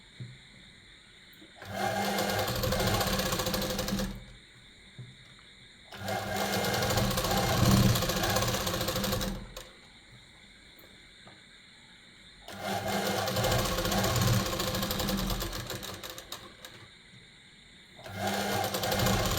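Electric sewing machine stitching a gents' kurta pajama, running in repeated bursts of a few seconds each with quiet pauses between, a steady close whirring chatter during each run.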